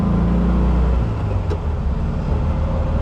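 A 1973 VW Thing with a 4-speed manual pulls away, its engine a steady, close low rumble that holds through the whole stretch with no talking.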